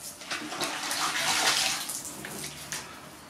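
Car being washed with water and a wash-and-wax shampoo, a steady broadband splashing and sluicing of water over bodywork, close and continuous with brief surges, no talking.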